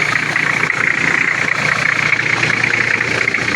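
A restored Nissan Patrol engine idles steadily and loudly up close, a continuous rumbling drone with a slight rough knock and no voices.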